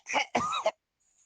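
A cartoonish cough from a Capcom game trailer shown at E3 2021, as a letter is coughed up onto the ground: two close, loud bursts, the second with a rough throaty tail, then silence.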